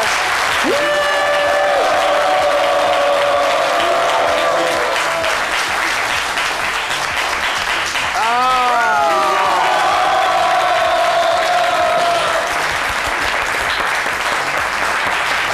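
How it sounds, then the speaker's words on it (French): A studio audience on a French lunchtime TV show applauds loudly and steadily for the full stretch, with a brief cheer or whoop rising partway through. "Allez, on applaudit très fort pour Gustave Fezambi."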